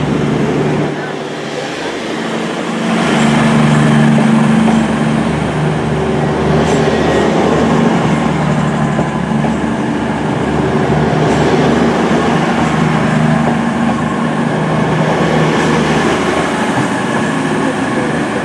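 A train sits at Penzance station bound for Manchester Piccadilly, its engine giving a steady low drone throughout with a slight rise after a few seconds, continuous and fairly close, with no talk.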